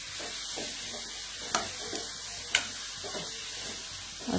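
Okra being stir-fried on a high flame for masala bhendi, a steady soft sizzle with occasional light scrapes and taps of the spatula, close and quiet, with no talk.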